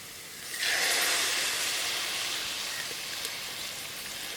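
Milk poured into a hot pan of sautéed carrots for carrot halwa, bursting into a loud steady sizzle that starts abruptly and hisses on, slowly easing, with no talk.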